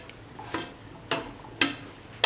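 Stirring garam masala into a cauliflower and egg stir fry, four distinct scraping strokes of a spoon in the pan at a steady rhythm, close and fairly quiet with a soft sizzle between them.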